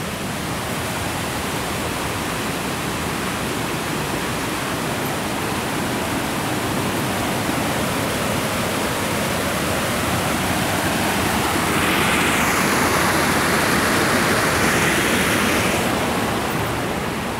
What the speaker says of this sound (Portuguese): Aqui é uma caída de água também, ó